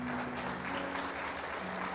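A church congregation bursts into dense, continuous applause that fills the space throughout, heard from a little distance with no voices on top.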